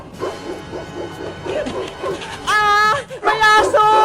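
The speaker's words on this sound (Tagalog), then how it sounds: "May aso! Takbo!" A dog near village houses barks and yelps in sharp, bright bursts during the last couple of seconds, loud and close, mixed with excited children's voices shouting over the commotion.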